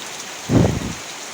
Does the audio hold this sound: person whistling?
no